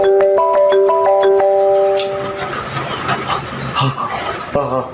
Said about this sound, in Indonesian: Ada telepon dari bos nih.